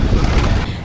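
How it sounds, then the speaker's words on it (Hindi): Strong wind buffets the microphone outdoors with a dense, roaring low rumble, loud and steady for under a second, easing slightly near the end. "इतना तेज़ हवा चल रहा है, इतना तेज़ हवा चल रहा है, देख रहे हो।"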